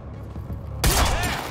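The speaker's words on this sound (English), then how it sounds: "He's firing right at me!" A sudden loud burst of gunfire breaks out in the video game Quantum Break, a heavy fusillade of shots cutting in after a quieter stretch of low ambience.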